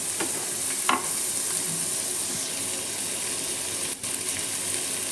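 Kurma bhaji, a mixed vegetable curry with peas, fries in hot oil over a low flame while a spoon stirs it. A steady sizzle runs throughout, with a few scraping stirs and no voices.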